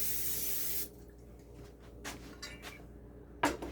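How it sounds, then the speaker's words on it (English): A short burst of hissing olive oil cooking spray over a baking dish at the start, then quieter kitchen handling noises with a few soft clicks and taps. "I'm using an olive oil spray."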